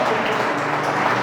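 A church congregation applauding, a dense and steady wash of many hands clapping, loud and close, with no pauses.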